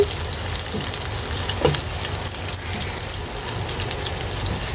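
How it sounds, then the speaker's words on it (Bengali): Cashews, almonds and raisins fry in ghee with a dense, continuous close-up sizzle and a faint stir near the middle, with no one speaking. "আমি ঘিয়ের সাথে এগুলো সব ভেজে নিচ্ছি"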